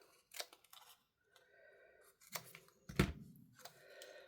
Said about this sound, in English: going to cut it in half